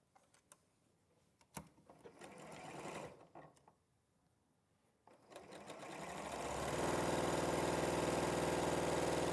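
Sewing machine joining fabric pieces, starting with a few short stitching bursts and pauses, then settling into a steady, loud continuous run of rapid needle action close by.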